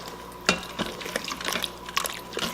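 Spoon stirring tomato sauce with cream in a pan for butter chicken, soft scraping and liquid sloshing with a few sharper clinks against the pan, close and fairly quiet.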